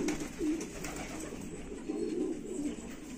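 Pigeons coo in a breeding loft, with several soft, rolling low calls repeating at a steady pace over a quiet room background.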